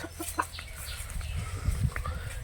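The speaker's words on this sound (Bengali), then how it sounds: "এই যে দেখো মুরগি আর মোরগ এই যে এটা মোরগ" Chickens and a rooster on a rural farm beside rice paddies cluck in short bursts close by, over a low rumble of outdoor background noise, with no talking.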